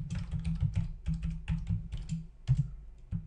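Keys clatter on a computer keyboard during a LAMP server setup, in a quick run of close, crisp clicks and taps with uneven rhythm and no speech.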